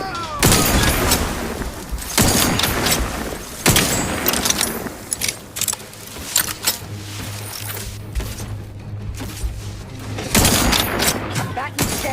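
Rapid gunfire bursts in the video game The Outer Worlds 2, loud sharp volleys repeating in clusters with mechanical clatter between them and brief pauses, with a voice talking in the background.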